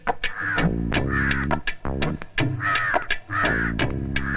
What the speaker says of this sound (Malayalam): ആ കാക്കേ. അതെവിടെങ്കിലും ഇരുന്ന് കരയട്ടെ